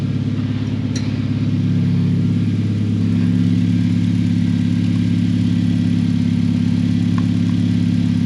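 A car engine idles steadily at close range with its positive battery terminal disconnected for an alternator check, a smooth low hum holding an even level throughout with a faint click near the start.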